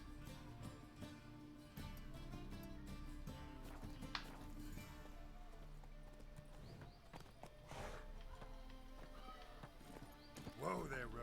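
Roach the horse in The Witcher 3 trots with steady clip-clop hooves and a brief whinny, set against tonal game music and a voice.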